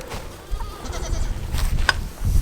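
Hungry Spanish Kiko goats bleat at feeding time in a farm pen, several overlapping calls close by, some short and some drawn out, over shuffling and low rumbling noise.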